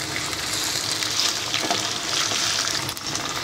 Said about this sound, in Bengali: আমি আদা রসুনটাকেও একটু ভেজে নেব।